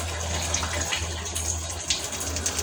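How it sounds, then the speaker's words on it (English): Water runs steadily from a tap and pours into a pot for Jamaican carrot sauce, a continuous close gush with a low hum beneath it. "Add 5 gallons of water."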